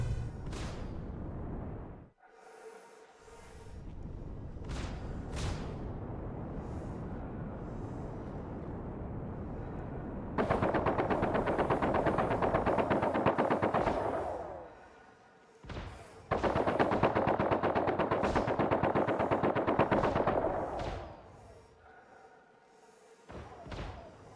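Star Citizen video game gunfire comes as sustained rapid bursts of shooting mixed with thuds and heavy impacts. Two long loud stretches are set among rumbling engine-like noise.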